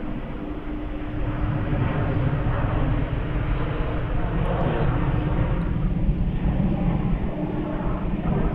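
Qantas flight 79 takes off from Melbourne Airport, a sustained loud jet roar that swells after the first second and holds steady, with a low engine hum running beneath it.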